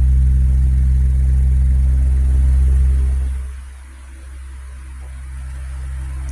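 An electric fan converted from AC to DC runs at full speed, a loud steady motor hum and airflow rumble that dips briefly as the setting changes, then settles into a continuous drone.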